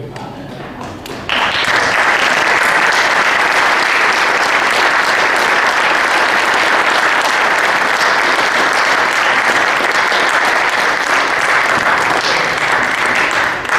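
A lecture audience breaks into loud, sustained applause after a quiet moment, the clapping swelling suddenly and holding strong and steady to the end.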